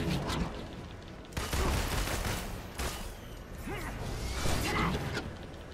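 Rapid volleys of gunfire in a video game, loud and dense, with scattered cracks and whooshes.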